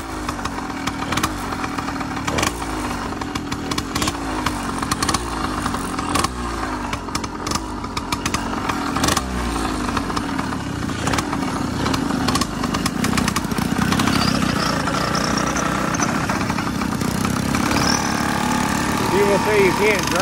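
Motorized bicycle engine running while cruising around town, a steady close buzzing putter that pulses with throttle and grows denser toward the end, with people talking over it.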